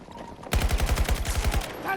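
Rapid, loud, close firing in the video game Battlefield 2042, with about a dozen punchy shots in quick succession lasting just over a second after a brief quiet lead-in.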